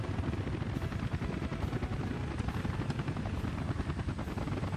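A helicopter in the city-building game Workers and Resources, its rotor thumping in a rapid, even chop with a dense low rumble, loud and continuous with no voices.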